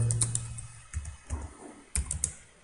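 Keys clack on a computer keyboard while C code is typed, coming in uneven little bursts of close, crisp taps with short pauses between them.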